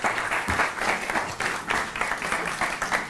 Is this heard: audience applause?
yes